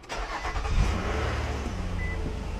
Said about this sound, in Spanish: Prendemos el vehículo.